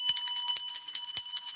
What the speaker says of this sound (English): The jingling of the bells.